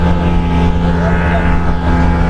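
A twin-engine motorboat roars at full throttle, a loud, steady engine drone with a constant low hum and rushing wind, no pauses.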